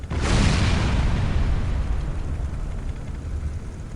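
Fire support strike in the strategy game Dawn of War: Soulstorm: a loud, close, deep boom that fades into a long rumbling rolling tail, with no voices over it.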